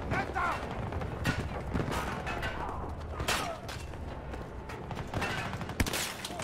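Battlefield 2042 battle sounds: continuous dense gunfire and mechanical rumble with scattered sharper shots, a loud crack near the end, under a busy game mix.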